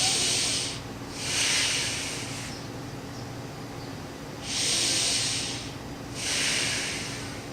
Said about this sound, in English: see if you can inhale with minimal chest growth